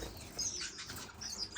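Strawberry finches in an indoor bird room give soft wing flutters mixed with thin, high chirps, quiet and fairly close, with no voices.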